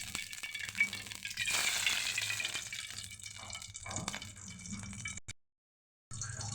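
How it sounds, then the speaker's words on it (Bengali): Soybean oil is poured into a hot frying pan on a stove before onions go in: a soft, splashy sizzle and hiss builds and fades over a few seconds, then cuts to silence, with no talk. "এখন আমি পরিমাণ মতো সয়াবিন তেল ঢেলে দিচ্ছি।"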